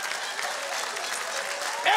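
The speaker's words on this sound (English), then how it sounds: "Everybody give Trey a big round of applause." An audience applauds at a live political comedy show, with a dense, even wash of clapping across two seconds, fairly quiet, before a voice cuts in at the very end.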